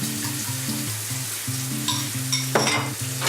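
Onions sweat in a hot pan, giving a continuous loud sizzle and fry close by, with a few stirring scrapes and clinks near the end and a low repeating tone running underneath.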